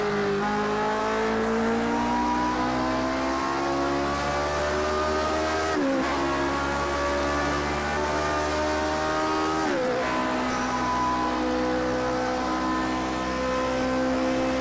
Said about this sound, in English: Obviously the Cosworth engine likes to be revved.